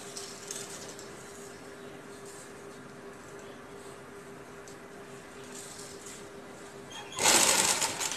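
A sewing machine stitches gum piping onto fabric as a seam is run up to the hip, its motor a faint steady whir throughout, then a short loud burst of fast stitching near the end.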